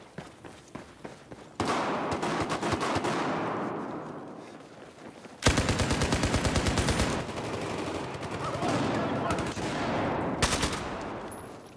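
Gunfire in the shooter game Battlefield 4 comes in repeated automatic bursts, loud and close with echoing tails, broken by short gaps and single shots.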